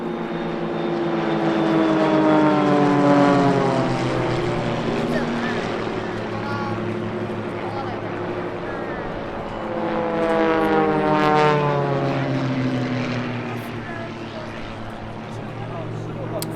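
A propeller-driven Extra aerobatic plane flies the carousel manoeuvre at the 2019 Sichuan airshow. Its loud engine drone rises and falls in pitch with two swelling passes, and a voice is heard over it.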